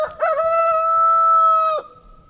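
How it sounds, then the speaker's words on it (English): A rooster crows at night in the outback, one long clear near cock-a-doodle-doo call that holds steady then cuts off, with a faint distant answer trailing after. "So yeah, 3 roosters just singing it, 2 up here, 1 across the thing."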